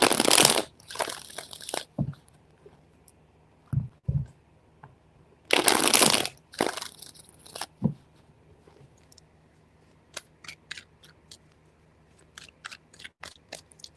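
A tarot deck is shuffled in several quick bursts of riffling and shuffling, close and crisp, separated by pauses and small clicks of handled cards, with no talking.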